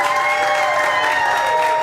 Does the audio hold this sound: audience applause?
yes